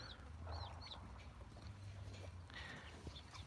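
Backyard chickens cluck softly and intermittently nearby, with short chirping calls from young birds scattered over a low, steady background hum; the flock sounds relaxed and close.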